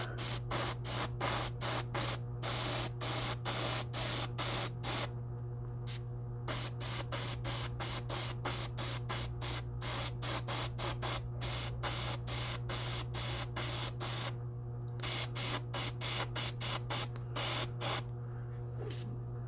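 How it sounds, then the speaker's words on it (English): An airbrush sprays thinner in long hissing bursts, each a second or so, with brief gaps between, loud and close over a steady low compressor hum. "And even with just airbrush thinner, the stuff does not build up on the tip of your airbrush needle very, very hard."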